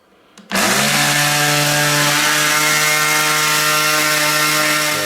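A homemade rust removal machine used to clean nuts and bolts starts up abruptly and runs loud and steady, a harsh droning whine with strong tonal hum that continues without a break.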